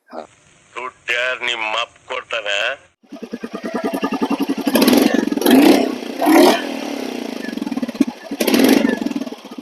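After a few seconds of talking, a Royal Enfield Classic 350 motorcycle engine thumps at idle and revs up in loud, rhythmic bursts close by.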